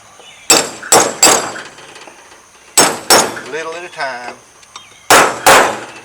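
A hammer drives wheel bearing races out of a Ford 660 tractor front hub, giving sharp metallic strikes in pairs with ringing decay between them, and someone speaks briefly between the blows.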